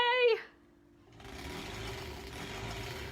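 A sewing machine stitches a seam on a granny-square quilt: a steady, close mechanical whirr that starts after a brief voice and a short pause, then runs evenly to the end.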